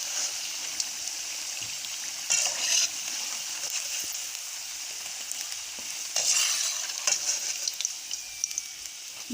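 Fried pakoras being lifted out of hot ghee into a strainer, with a steady loud sizzle and occasional brighter bursts of crackling and scraping.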